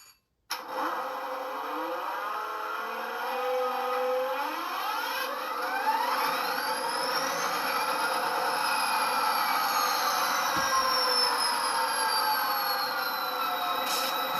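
An Athearn Southern Pacific SD40R model locomotive powers up on a test track, its sound system giving a steady engine drone with rising and gliding whine tones, faint and continuous throughout.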